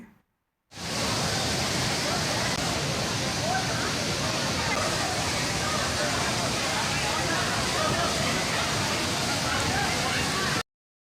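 Loud, steady roar of rushing rainwater from the Tirumala hills pouring over rocks into Kapila Theertham, continuous and close throughout with no talking.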